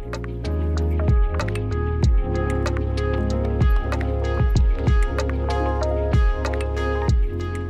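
Coolant drains out of a water-cooled PC's side radiator while the case lies on its side, giving a steady liquid trickle punctuated by repeated gurgling glugs and drips, close and fairly loud, with no talking.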